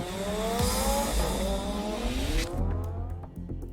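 Lamborghini Urus supercar with a 610-horsepower V10 engine, driving loud and close, its engine note climbing in rising sweeps with a hint of tire noise, then dropping away sharply, leaving quieter rumble.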